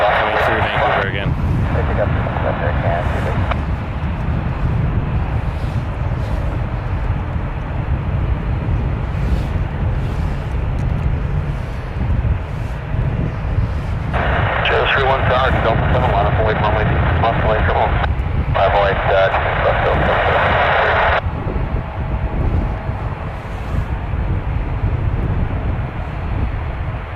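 Airliners lining up one after another at Vancouver airport (CYVR) rumble steadily in the distance, with bursts of radio chatter and a voice talking over the continuous engine roar.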